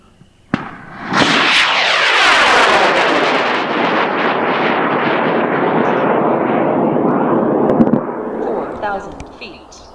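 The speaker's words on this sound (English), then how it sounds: "Please proceed with the launch. All right, we're going in 5, 4, 3, 2, 1." After a spoken countdown, the Bellatrix amateur rocket ignites with a sharp crack and then a loud, steady roaring rush of rocket motor that lasts about seven seconds before fading as it climbs away.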